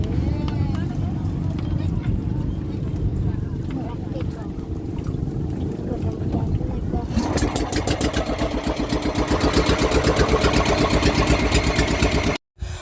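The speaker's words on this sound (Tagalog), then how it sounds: "Gipaandar na gani ang makina kay malakat na" Boat engine starting up and running as the boat gets underway, first a low rumble with wind noise and voices, then a louder rapid rhythmic chugging that builds over several seconds before a brief cut.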